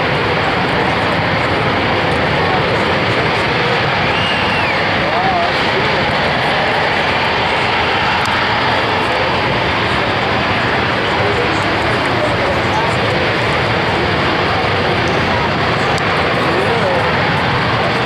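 A Sea Harrier FA2 jet at an air show roars continuously, a loud, dense, broadband engine noise that holds steady for the whole stretch.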